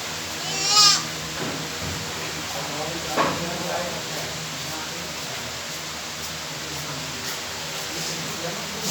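Goats on a goat farm bleat, with one sharp close cry near the start and a fainter call a couple of seconds later, over a steady hiss of barn background.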